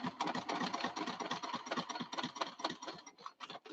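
A sewing machine running a back stitch along a quilt's stitch line: quiet, rapid, even needle pulses chattering steadily, then slowing and stopping near the end.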